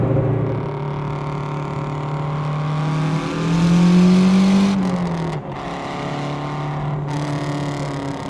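A Lancia Hyena Zagato hatchback drives hard, its engine droning steadily and rising as it revs up, easing briefly between gear changes, then pulling on again, loud and close from inside the car.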